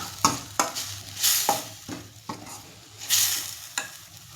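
A thick ground rasam spice paste fries in a pan, the low sizzle broken by about eight sharp scraping strokes of a spatula stirring it at an irregular pace, close and with no talk.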